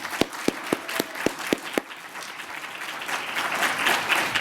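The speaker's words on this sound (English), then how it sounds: "Another round of applause, Umezawa Sensei." A few slow, evenly spaced single claps ring out near the mic before a seminar audience breaks into a broad, continuous round of applause that builds and carries on to the end.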